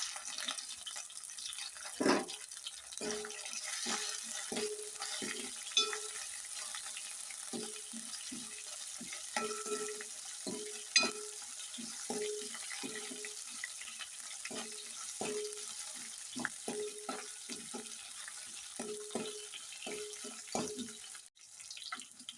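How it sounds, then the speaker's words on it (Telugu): Ginger pieces frying in hot oil in a pan, a soft continuous sizzle broken by repeated short scraping and stirring strokes, close and moderately quiet throughout. "అల్లం ముక్కలు అయితే వేగేయండి."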